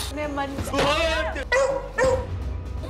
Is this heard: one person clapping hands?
no